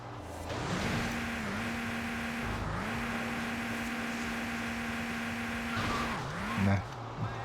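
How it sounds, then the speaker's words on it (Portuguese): Steady engine drone of an amphibious car in GTA Vice City Stories, running continuously with a few pitch dips as it shifts, under light background noise and a voice near the end. "Carro anfíbio"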